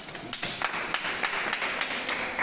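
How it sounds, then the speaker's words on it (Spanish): A law-school audience claps for itself, giving fairly sparse applause made of distinct, rhythmic hand claps from a small group in a room. The claps are steady and moderately loud throughout. "Un aplauso para ustedes mismos."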